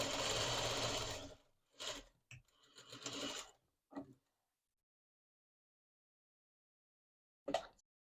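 A sewing machine stitches a narrow seam for a lattice shirt in short bursts: one longer run of rapid mechanical chatter, several brief pulses, a long silence, then a final quick burst, close and clear.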